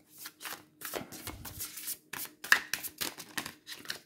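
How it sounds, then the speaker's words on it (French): Stiff tarot and oracle cards being shuffled by hand, a steady run of papery riffling and slapping bursts across the whole stretch, close and fairly loud with no talking. "il est extrêmement dur à mélanger"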